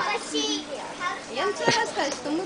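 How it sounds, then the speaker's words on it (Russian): Children play outdoors in a forest clearing at a birthday gathering, with overlapping high kids' voices chattering and calling close by, continuous throughout. "Интересно, будет звуковая дорожка, когда дети здесь играют."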